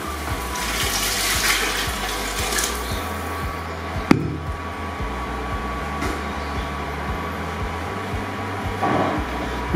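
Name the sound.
water being poured into a cooking pot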